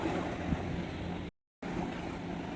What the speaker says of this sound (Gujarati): તો જો દરિયામાં મોજા સરસ આવે છે